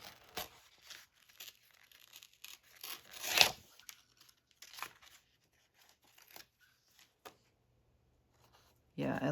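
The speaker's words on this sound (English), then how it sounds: "I feel like I'm gonna like it better if I rip it" Paper torn by hand for a journal page gives soft, scattered ripping and crinkling sounds, with one louder, longer tear near the middle and quiet handling noise between.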